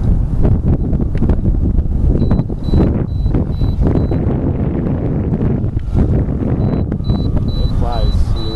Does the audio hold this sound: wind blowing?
yes